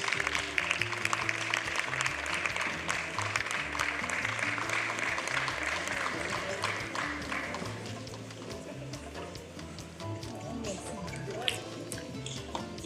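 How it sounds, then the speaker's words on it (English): Sustained applause from an event audience at a public health function, dense broadband clapping steady and loud throughout, thinning slightly toward the end with background murmur. "A round of applause for him, please."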